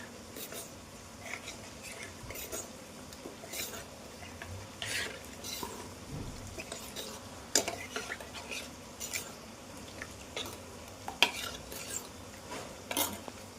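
A spatula repeatedly scrapes and stirs a chicken and onion mixture in a frying pan, producing irregular close scraping strokes and light clinks over a faint background sizzle.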